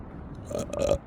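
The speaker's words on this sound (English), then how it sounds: "Pardon my belch." A single person belches, a short throaty burp lasting under a second, close and fairly loud against a quiet room.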